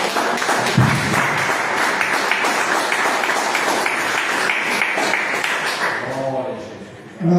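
A church congregation claps during an evangelical service, sustained dense clapping at a steady level that fades toward the end as a voice begins to speak.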